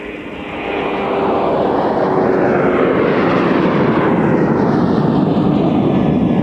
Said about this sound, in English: All right, so we got another departure coming this way.